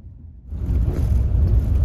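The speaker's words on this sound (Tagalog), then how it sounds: "Nagising tayo dahil merong isang bus na nag-overtake na sobrang ingay ng makina." A loud bus engine overtakes on a North Luzon road, heard from inside a first class bus: after a quiet start, a deep rumbling roar swells suddenly and stays heavy and close.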